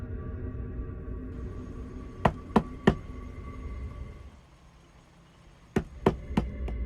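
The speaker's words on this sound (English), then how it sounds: "Out of nowhere, 2 loud knocks echoed through her van." Two sharp knocks strike a camper van parked at a quiet park, close and loud with a brief echo, followed after a pause by several more raps, all over a low steady background hum.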